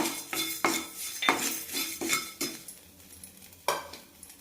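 Dried red chillies dry-roasting in a kadai after salt, with a metal spatula scraping and clinking against the pan in a series of sharp strokes, close up and without talk.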